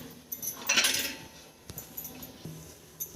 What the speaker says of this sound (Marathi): झाकण लावून घेऊया